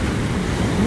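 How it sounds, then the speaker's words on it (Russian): Sea waves crash and churn up close at a narrow passage on the Turkish coast, a loud continuous roar of surging water filling the whole moment. "какие волны! Мне кажется, что они становятся все больше и больше."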